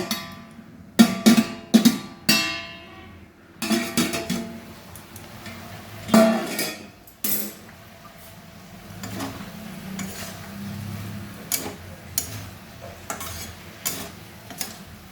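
A spoon stirs a simmering curry of local prawns, potatoes and onion stalks in a pan on a low flame. Irregular clanks and scrapes against the metal ring out in bursts over a soft, continuous sizzle.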